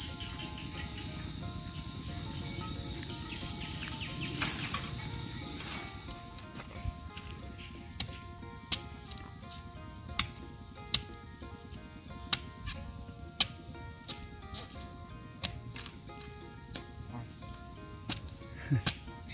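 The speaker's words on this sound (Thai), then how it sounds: "นี่จะเป็นเสียงแมงอีห้องเด้อ" An insect called maeng i hong chirps in a rural Lao setting, a shrill sustained high-pitched trill that suddenly stops, followed by sparse sharp clicks and chirps over quiet night ambience.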